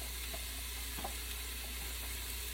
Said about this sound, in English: Yep, you want to hear that sizzle.